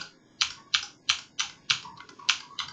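Keys tapped on a computer keyboard while pressing Shift and backslash, about eight crisp, evenly spaced clicks close up in a quiet room with no talk.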